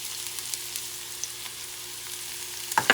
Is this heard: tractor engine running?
no